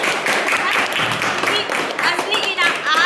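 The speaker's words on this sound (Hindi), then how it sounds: "एक बार मनीष के लिए जोरदार ताली" A classroom of Class 8 students claps loudly in praise of a classmate, a dense steady burst of applause with voices mixed in throughout.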